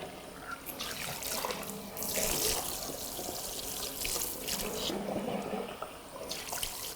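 Water from a salon shower head streams over hair during a back-shampoo rinse at a basin, a continuous hiss that swells and dips as the spray moves, close and moderately loud with occasional faint voice beneath.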